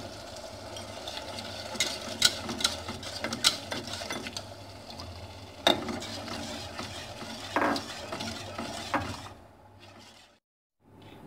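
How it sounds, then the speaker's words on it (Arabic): Five beaten eggs whisked and stirred by hand into a chicken mixture in a pan, a busy scraping, clattering rattle with sharp clicks of utensil on metal, steady and close before trailing off near the end. "غادي نطربوهم نبداو نرميو شويه بشويه، وحنا كنحركو بالخوي باش يتخلط مزيان"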